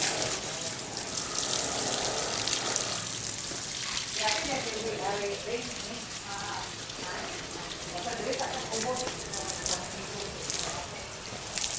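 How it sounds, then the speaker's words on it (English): Warm tap water running over a bonsai plant, a steady splashing hiss throughout with a faint voice underneath. "That is warm water."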